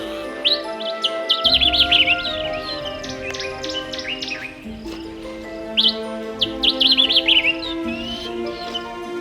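A sombre greenbul in Kruger National Park calls loudly and close, giving bursts of rapid, bright warbling phrases that rise and fall, in two main runs separated by a brief quieter pause.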